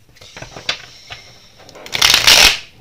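Tarot cards being shuffled by hand in a series of soft riffling bursts, building to a loud, dense flurry near the end.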